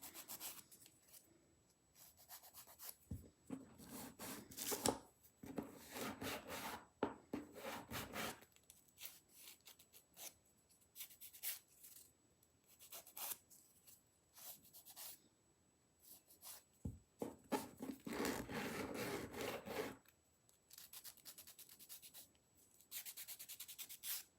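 Nail file rasping against a fingernail while shaping it during a dip powder manicure: close, dry scraping strokes in irregular bursts separated by short pauses, with no talking.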